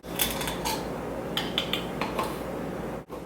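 Baking soda and baking powder get mixed into a gluten-free, grain-free muffin batter: steady close scraping and whisking in a bowl, with several light clinks of a utensil against the side.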